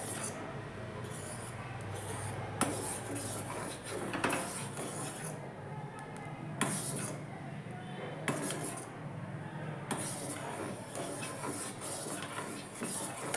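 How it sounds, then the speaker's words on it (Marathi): A spoon clinking and scraping against a pot while vermicelli pudding is stirred, repeated close metallic strokes at a gentle, irregular pace, fairly quiet. "हलवत राहायचे, नाहीतर गाठी होतील"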